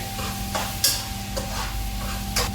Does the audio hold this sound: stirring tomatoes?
yes